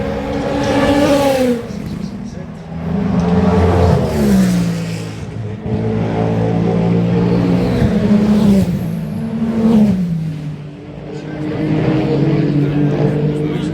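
Le Mans prototype race cars, including the Wayne Taylor Racing Cadillac on Michelin tyres, pass Tertre Rouge during night practice, their loud engines rising and falling in pitch as they sweep by one after another.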